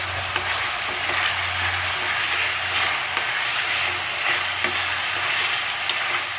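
A pot of chicken arroz caldo rice porridge is stirred over steady heat, with loud continuous sizzling and bubbling and a soft scraping rhythm from the spoon throughout, without any talk.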